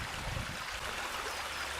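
A brook flowing near an old railway marshalling yard in the Forest of Dean, heard as a steady, close wash of running water with no voices.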